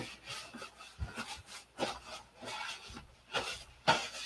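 Sandpaper rubbed by hand over a primed surface, giving a few quiet, irregular scraping strokes with short pauses between them, close by and with no talking.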